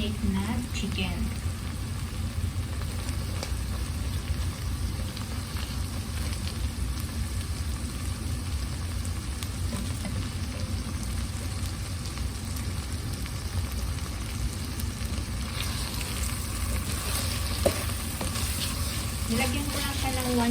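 Onions sizzle and fry in a spoonful of olive oil in a pan, browning before marinated chicken goes in; a steady, close crackling hiss runs throughout with occasional stirring and a voice talking over it.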